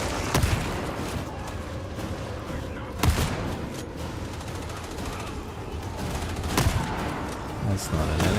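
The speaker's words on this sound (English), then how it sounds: "Who's shooting?" Gunfire crackles in the video game Warhammer 40,000: Darktide, with a dense stream of shots and a few sharper, heavier bangs standing out, while a player talks over it.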